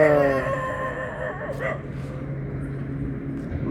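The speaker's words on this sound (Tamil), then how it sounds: "நாய்கள் விளையாட்ட பார்த்தீங்களா" Dogs playing outdoors at night give a few yips and whimpering cries, with a short bark, close by over a steady background hum.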